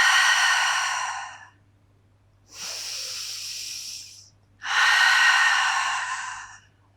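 Long, deep breaths during intermediate Pilates matwork, heard up close as three slow airy exhales and inhales, each lasting one to two seconds, separated by brief quiet pauses with no talking.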